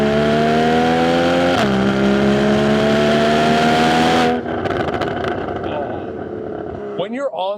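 A Porsche 718 GTS 4.0 mid-engine flat-six revs hard on throttle with a rising, harmonically rich wail, drops pitch at a shift, climbs again, then cuts off throttle into crackling overrun burbles and a brief voice at the end.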